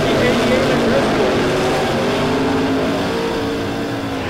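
Racing cars run side by side down the back straightaway of Lebanon Midway Speedway during a heat race, their engines roaring loud and steady throughout with a broadband rush, while a commentator talks over the action.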